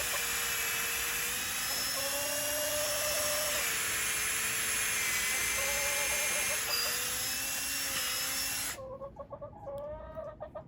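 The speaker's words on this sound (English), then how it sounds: "Drill your hole." Power drill boring a tap hole about 2.5 inches deep into a maple tree, a loud steady high-pitched whine running continuously for several seconds, then cutting off into a quieter stuttering rattle as the bit slows.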